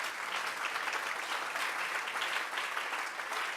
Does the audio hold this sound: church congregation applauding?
yes